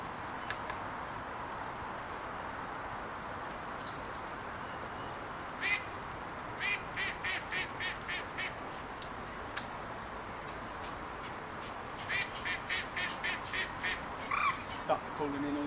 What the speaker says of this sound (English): Duck calling in all of his mates,